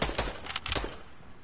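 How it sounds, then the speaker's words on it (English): Video game gunfire, a quick rattling burst of several close shots over about a second, fading into a low rumble. "Other people are shooting him."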